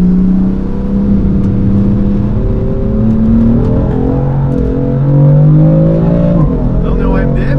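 A BMW M4 with a non-stock exhaust at a track day, loud engine revving heard from inside, with pitch climbing through gears and a shift dip near the end, under continuous road rumble.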